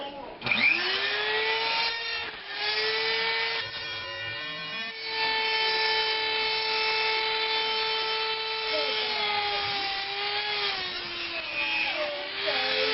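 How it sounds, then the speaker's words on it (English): A handheld Dremel rotary tool grinds detail into a cloud sword build, giving off a steady high-pitched motor whine with a rough grinding edge that holds for the whole stretch with small dips in pitch as it bites. "I'm just going to show you guys how I did the first step with my trusty Dremel"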